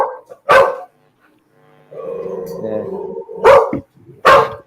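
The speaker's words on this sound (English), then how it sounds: "Man, that dog has a lot of bark." A dog barks loudly and close by in a few sharp bursts, with a quieter stretch of whining or vocal noise between them and no talk over it.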